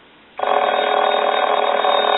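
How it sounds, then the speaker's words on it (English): After a brief quiet moment, the ringer of a Spirit of St. Louis speakerphone telephone, turned all the way up, rings continuously, loud and close, with a buzzy electronic tone. "Then I want to turn the ringer all the way up."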